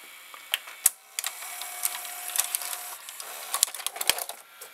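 An RCA VR335 VCR loading a videotape, its motor and worm gear producing a string of close mechanical clicks, clacks and whirring over about five seconds, with no voices.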